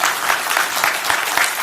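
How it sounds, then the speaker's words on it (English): Steady audience applause for a conference speaker, a dense even wash of many hands clapping close by, with no voices over it. "give a huge round of applause to Chiara"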